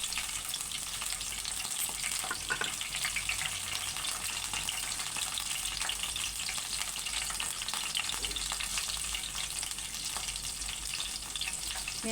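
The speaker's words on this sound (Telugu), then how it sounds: "ఆయిల్ అయితే వేడైంది. ఒక 5-6 పచ్చిమిరపకాయలు వేసుకుందాం ఫస్ట్." Green chillies frying in hot oil, a continuous close sizzle and crackle at moderate volume lasting the whole stretch with no voices.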